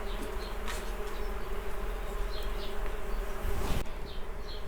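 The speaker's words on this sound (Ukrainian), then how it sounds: "ось мої бджілки, з ними все добре" A steady, dense buzzing of many honeybees feeding on flowers fills the air, close and continuous, with individual insects droning past.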